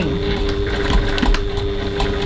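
A sewing machine stitches a sling bag in a fast, steady mechanical whir with a constant motor hum, close and alone.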